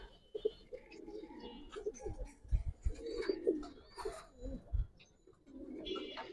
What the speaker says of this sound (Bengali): আর্মি কবুতর দেখেন ভাই